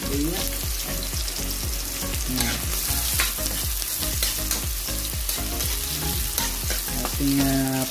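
Onion and ginger sauté in a pan for chicken tinola, sizzling loudly and close with rapid, repeated scraping of a spoon on the pan, while music plays underneath.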